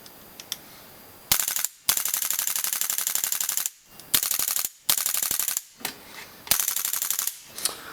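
Viper Tech 2011 M4 RAS airsoft rifle firing full auto in loud, rapid rattling bursts of shots from up close, separated by short pauses and a few single clicks.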